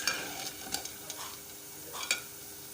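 Edible gum (gond) frying in a pan as it is stirred continuously, a soft bubbling sizzle with scattered scraping taps of the spoon, close and fairly quiet, no voices.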